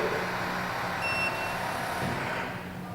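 A Glass Chimney GL 6074 kitchen hood sounds a short, high electronic caution beep while its hydraulic glass shutter closes. The beep rises over a steady motor hum, which fades slightly at the end.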